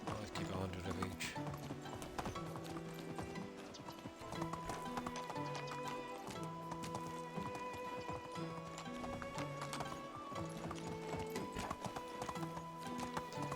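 Horse hooves clip-clop at a steady riding pace in the medieval-life game Medieval Dynasty, with a neigh partway through, heard continuously over layered game ambience.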